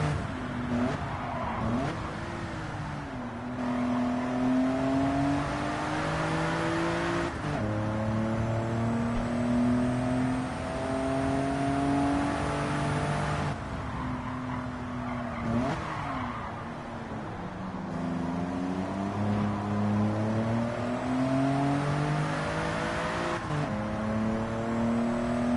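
Car engine in the racing game Gran Turismo 7 revving hard, its pitch climbing through each gear, dropping at the shifts and climbing again in a loud, continuous run with no talking.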